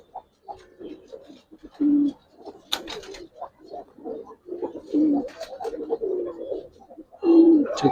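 Giribaz and colouring pigeons cooing close by in repeated low, rolling phrases with short pauses between them. Brief faint chirps cut in now and then over a fairly steady level.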